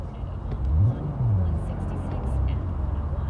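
A car drives through the streets of Cyberpunk 2077, its low engine rumble rising and falling as it accelerates, steady and fairly close throughout.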